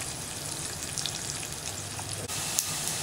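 Garlic sautés in a pan for a curry, a close, even frying hiss with fine crackles and a couple of faint stirring touches, steady throughout with no one talking.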